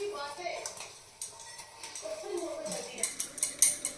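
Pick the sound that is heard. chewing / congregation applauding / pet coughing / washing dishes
washing dishes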